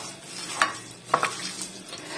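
A spoon works minced mutton with dry spices and salt in a pan, giving a few close scraping and stirring strokes over a low background hiss, with a faint clink of utensil on metal, no talking.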